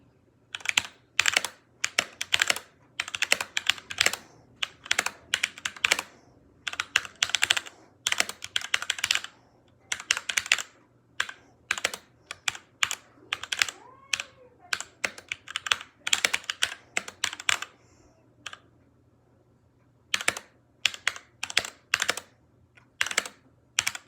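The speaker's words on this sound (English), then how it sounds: "it's a lot slower with the mechanical keyboard" Fast typing on a mechanical keyboard during a Nitro Type race: crisp, close key clacks in quick bursts separated by short pauses, steady over twenty-odd seconds.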